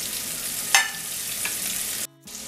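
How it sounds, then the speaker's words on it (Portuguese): Thin beef steak frying gently over low heat in a skillet, a soft continuous sizzle with a couple of brief crackles and a short gap near the end. "Coloca o nosso bife e deixa ele fritando suavemente."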